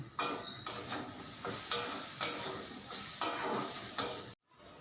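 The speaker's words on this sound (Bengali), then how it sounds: "এই যে খাবার রুটি আর আলু ভাজা করছি" Sliced potatoes frying in a home-kitchen pan as breakfast with roti, a bright, close sizzle broken by rhythmic scraping stir strokes about twice a second, cutting off abruptly near the end.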